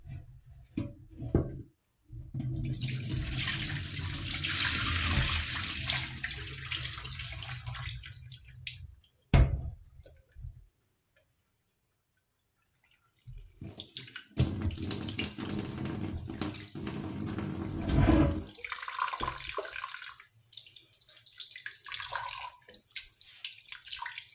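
Rinse water from washed supermarket meat pours into a kitchen sink in two long splashing bursts, a steady loud gush and running-tap spatter separated by a pause, with drips and clinks near the end.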